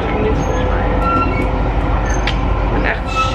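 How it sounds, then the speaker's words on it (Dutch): A train runs on rails during a trip involving a train and metro transfer, giving a loud, steady rumble with rattling and faint squeals throughout, with no voices. "We moeten alleen even met de trein dan met de metro zijn."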